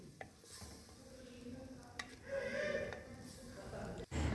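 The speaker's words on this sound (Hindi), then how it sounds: "फिर आप इसमें दही डालें और दही को भी अच्छी तरह भून लें।" Yogurt being stirred and fried into minced meat in a pan on a home stove, with a soft steady sizzle under scraping spoon strokes and occasional clinks of utensils against the pan.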